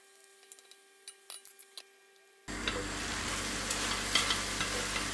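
Mutton frying in butter in a pot starts with a few soft wooden clicks and taps, then a sudden steady loud sizzle that carries on unbroken, close to the pan.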